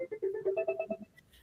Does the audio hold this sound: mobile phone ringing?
yes